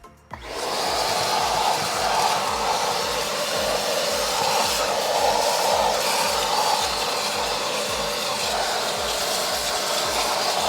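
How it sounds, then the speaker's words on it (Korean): A loud, steady vacuum cleaner roars continuously after a sharp start, sucking dust from a Kia Carnival floor mat, with a constant hissing airflow and a low rumbling drone throughout. "청소기를 이용해서 한번 빨아들여 보도록 하겠습니다."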